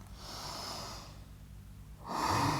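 Deep breathing held in a downward facing dog yoga pose during an Ashtanga core session, a long slow exhale followed by a louder inhale, close and with no talk.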